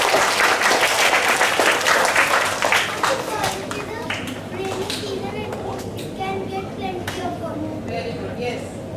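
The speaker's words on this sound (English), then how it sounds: "Clap for her loudly." Children applauding a student at a school assembly for Van Mahotsav, loud dense clapping that gradually thins out while kids chatter and an adult speaks over it.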